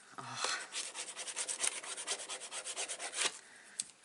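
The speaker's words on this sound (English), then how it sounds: "Let me just use the bone folder." A bone folder rubs back and forth over paper on a recipe album page, making steady rhythmic scraping strokes, close and fairly loud.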